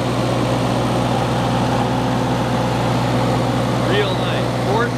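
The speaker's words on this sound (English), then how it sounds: "Yeah, fire it up. This is a Kohler 10 kilowatts." A Kohler 10 kW generator driven by a Ford four-cylinder engine runs at a steady idle, a constant low drone close by, with faint voices and brief squeaks over it.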